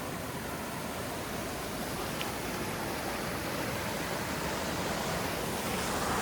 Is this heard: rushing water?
yes